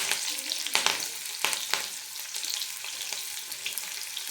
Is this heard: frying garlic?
yes